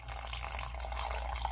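Water trickles quietly and steadily into a pet tarantula's enclosure as it is given a drink, a soft continuous pouring with faint drips.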